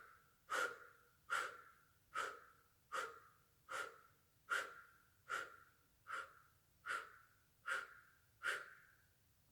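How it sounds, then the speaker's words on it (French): Conscious breathing during a breathing exercise: eleven evenly spaced, close, forceful breaths in a slow steady rhythm, each a short airy rush that fades, with quiet gaps between. "pour la première impulsion, on inspire consciemment, mais pour les autres respirations, on va laisser faire"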